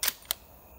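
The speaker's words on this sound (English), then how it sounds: "Throw these last two shots to show you how quiet it is." Two quiet suppressed shots from a Gear Head Works ONE pistol at an outdoor range, a soft sharp crack followed a quarter second later by a second, fainter pop, with little echo.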